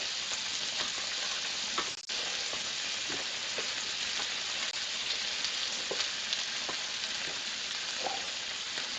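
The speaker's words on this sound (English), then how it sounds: "I want to get all three steaks nicely seared." Three ribeye steaks sear in a hot pan with a loud, steady sizzle that carries through the whole stretch, broken by one brief crackling pop.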